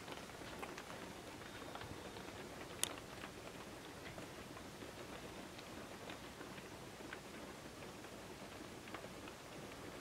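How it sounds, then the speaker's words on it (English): Steady rain patters outdoors, a dense, even hiss of drops with faint scattered ticks and one brief sharper tap, continuous throughout at low level. "Do you hear the raindrops, Boa?"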